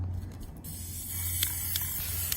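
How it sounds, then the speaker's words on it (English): Spray paint can hissing in short bursts for hydro dipping, a broad airy spray that runs steadily near the mic after a brief rattling start, with a few sharp clicks along the way. "he's using a spray paint and a warm bucket of water."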